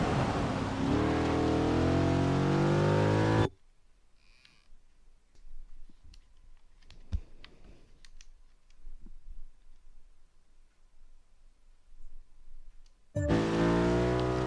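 A stock Audi S4 V8 in Forza 6 roars loudly as it revs on a racetrack, cuts to near silence for about ten seconds, then returns with a strong rising engine note.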